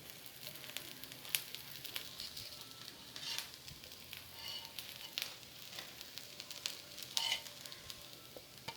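A tapioca adai cooks on a pan in a little ghee, making a faint, soft sizzle broken by small pops and crackles.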